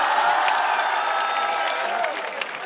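A crowd at a college festival poetry event applauds steadily, a dense wash of clapping with occasional cheers that holds throughout.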